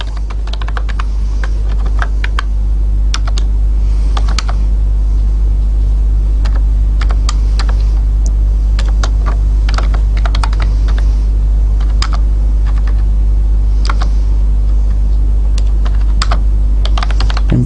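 Someone types on a computer keyboard while writing a console database management program, giving irregular close key clicks over a loud, constant low hum.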